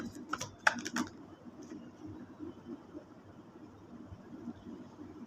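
Tarot cards are shuffled in a quick burst of crisp, papery clicks and flutters near the start, then only a faint, quiet room hum remains.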